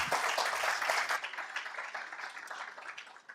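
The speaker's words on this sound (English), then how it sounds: "Have a round of applause." An audience at a live metrology talk applauds with a dense burst of clapping that slowly thins and fades over a few seconds.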